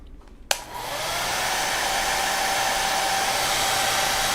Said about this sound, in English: A little hair dryer,